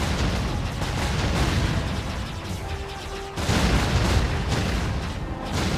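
Booming explosions rumble through a flight sequence in the video game Jade Empire, a dense, loud, continuous barrage with a brief dip before another heavy burst of blasts.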